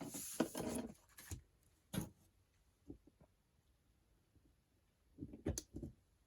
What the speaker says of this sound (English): so just burnishing that from behind